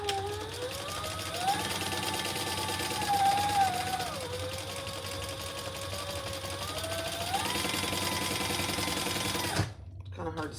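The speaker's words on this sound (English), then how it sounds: "let's do another round, starting at an inch down from the top, right next to my previous stitches" A sewing machine runs steadily, stitching black fabric, its motor whine rising and falling in pitch as the speed changes, then stopping abruptly near the end.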